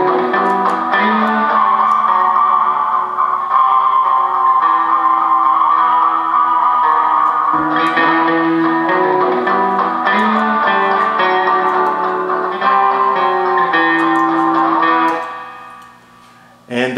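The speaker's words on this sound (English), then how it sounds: "So you can use things like the tube echo model to process the loop, giving it sort of a lo-fi sound like we've done here." A guitar loop run through the tube echo model of a Line 6 M9 effects unit, steady and lo-fi with dense sustained chords and a ticking pulse, playing continuously and loudly before cutting off near the end.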